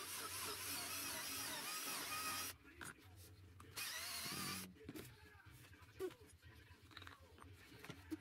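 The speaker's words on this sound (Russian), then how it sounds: "Вначале прохожу тонким сверлом, потом беру сверло на 8." A power drill with an 8 mm bit bores a through hole in a wooden part for a rotating kitchen shelf, whining in two steady bursts separated by short pauses, then handling and shuffling noises.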